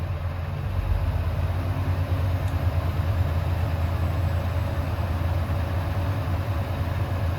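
A Volvo truck's diesel engine idles while the air system builds pressure, a steady low rumble with a constant hum, even and unbroken throughout, with no talking.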